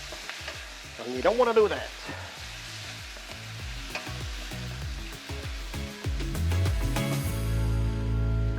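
Garlic sizzles and fries in a hot pan for a Chinese chicken and tomato dish, with steady crackling, occasional stirring clatter, and a louder surge of sizzle toward the end; someone talks briefly at the start.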